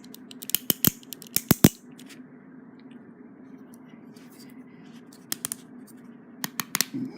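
Quick bursts of small plastic clicks from a ratchet inside the connector peg of a bootleg Voltron GX-71 green lion toy, heard up close in three clusters over a low steady hum, without speech.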